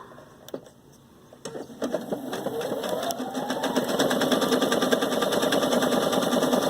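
A Viking Sapphire 930 sewing machine starts up and stitches a long wide taper, its rapid needle rhythm building into a steady close mechanical whir after a few quiet clicks.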